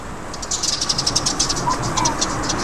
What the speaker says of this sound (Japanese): スズメがこのバス停の中でチュンチュンチュンチュンうるさかったんで